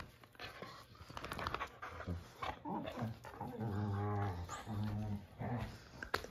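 Puppies growl and play close by, with low rumbling growls, whimpers, yips and panting coming in bursts, quiet overall and with no talking.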